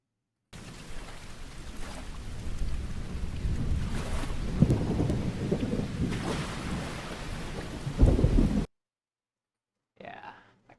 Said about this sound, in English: let's see what this thunder sounds like